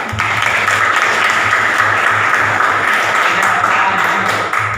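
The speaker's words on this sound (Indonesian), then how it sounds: "Kita beri tepuk tangan" A classroom full of students clapping and applauding steadily for several seconds, loud and sustained without a break.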